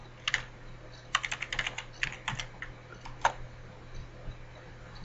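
A password being typed on a computer keyboard at a terminal, with quick uneven bursts of key clicks and short pauses between them, close and clear over a faint steady hum.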